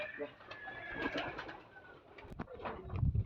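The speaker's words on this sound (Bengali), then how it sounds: "এই যে দর্শক কতই বড় না কবুতরটা" Pigeons coo softly and intermittently on a pigeon farm in Rajshahi, heard close under a person's talking, with some handling noise.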